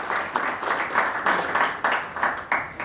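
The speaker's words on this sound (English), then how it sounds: "a big round of applause to welcome Mr." Applause welcoming a speaker to the stage at an international galvanizing conference, a steady round of clapping from a seated audience with a pulsing, even texture throughout.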